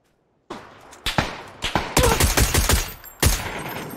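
AWM rifle gunshots from a video game: a rapid, irregular volley of sharp, loud cracks, some overlapping into bursts, after half a second of silence.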